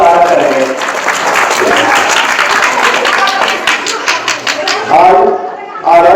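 Children at a teacher farewell and honour ceremony in a middle school courtyard applaud loudly, a dense continuous burst of clapping with crowd chatter mixed in, easing briefly near the end.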